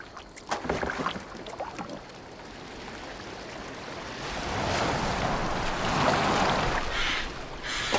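Boat moving over open water in Assassin's Creed Valhalla, with sloshing waves and wind swelling and easing across the stretch, a few sharper splashes early on, heard alone without talk.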